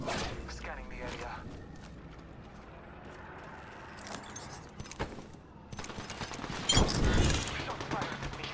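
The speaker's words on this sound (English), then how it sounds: "Shot fired at me." Video game gunfire with bursts of shots and mechanical clatter, loud and dense with intermittent thumps, heard alongside spoken voices.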